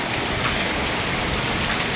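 Heavy rain pours steadily during a storm at a roadside fruit stall in Kholapota, Basirhat, North 24 Parganas, a dense, unbroken hiss close by with no voices.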